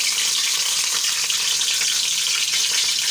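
Ghee goes into a hot pan while making egg and potato biryani and sizzles loudly with a steady, dense hiss that stays close and even throughout, no voices.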